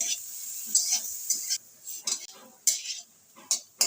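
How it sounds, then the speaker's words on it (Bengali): Dry red chillies fry in a little oil while a spatula stirs, giving soft, close scrapes and light metallic clinks over a faint sizzle. "শুকনো লঙ্কাগুলো ভেজে নেব সামান্য তেল দিয়ে"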